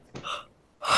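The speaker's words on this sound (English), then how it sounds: "And everybody's yawning." A person yawns up close, making two breathy, airy bursts of breath separated by a short pause, with no other sound around them.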